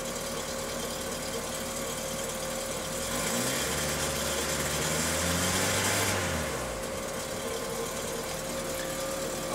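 A turbocharged 1986 Toyota MR2 engine idles steadily at moderate volume, a continuous hum with a gentle rise and fall in revs midway before settling back to idle.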